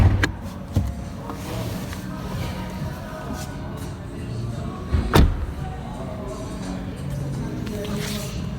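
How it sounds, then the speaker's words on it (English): An Audi A1 Sportback S line trunk is popped open, with a sharp latch clunk early on, another thump about midway, and handling noises and movement around the car in between. "And let's pop the trunk."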